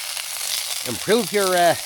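A stir-fry sizzles in a pan at a chilly campsite, a steady close hiss throughout, with a short run of squealing tonal sounds rising over it near the end.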